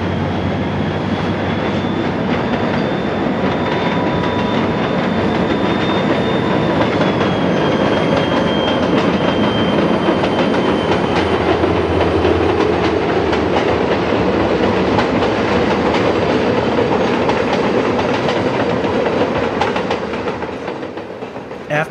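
Great Northern 325, a rare SDP40 diesel locomotive, throttles up and passes close by on sunny open track, its engine roar loud and steady throughout with a thin whine above and wheels clattering underneath.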